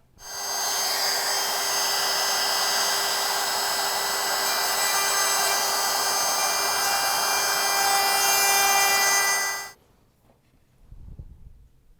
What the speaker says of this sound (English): Route near those striped lines and then clean up with the chisel.